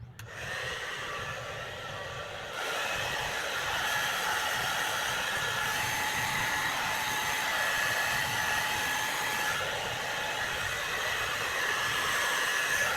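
A handheld hair dryer blows steadily close to the microphone, a loud continuous whooshing roar after a brief softer start, with no talking over it.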